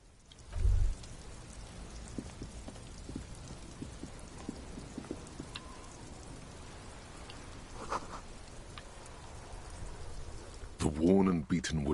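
Steady rain falling in the video game Disco Elysium, a continuous wash of drops with a few brief thumps and a louder rumbling burst near the end.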